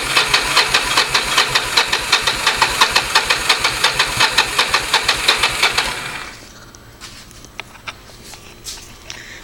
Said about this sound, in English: We'll demonstrate the motor turning over.